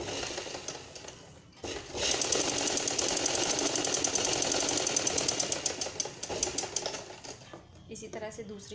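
A sewing machine stitches a fabric tassel onto a sleeve corner, running in a fast mechanical rattling burst of about five seconds after a short pause, up close, then slowing to a stop.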